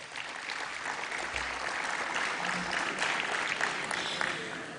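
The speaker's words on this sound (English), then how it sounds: "Please give yourselves a round of applause." Audience applause at a university sport awards evening, a dense steady wash of many hands clapping throughout, moderately loud and slightly distant, with no clear talking over it.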